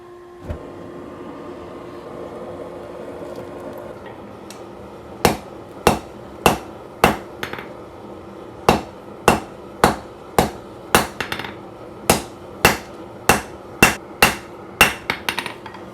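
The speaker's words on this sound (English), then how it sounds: "So we're going to start forging it out, and I'm going to have to be really careful to keep the core centered." Hammer blows ring out on a hot San Mai Bowie knife blade at the forge, a steady series of about twenty sharp, loud metallic strikes in regular rhythm after a quieter stretch of forge roar.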